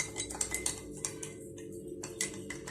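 A small spoon stirs two teaspoons of sugar into half a cup of milk, with quick light clinks and scrapes against the cup that repeat in an uneven rhythm, close and fairly quiet.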